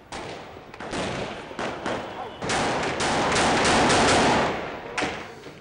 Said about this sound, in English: heavy gunfire can be heard as protesters take shelter on both sides of the street